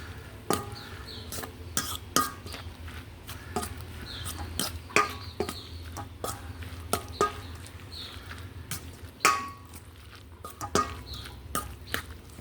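Utensil scraping and tapping in a cooking pot as a flour-thickened dish is stirred, sharp irregular knocks and clinks over a low background hum, close and moderately loud.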